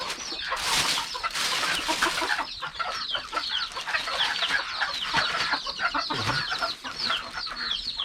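A group of chickens clucks and chatters nearby in a busy, overlapping stream of calls, with a few louder squawks. No people speak over it.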